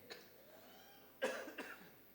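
A man clears his throat and coughs twice during a New Year Mass at a church in Lahore, short close bursts against a quiet room.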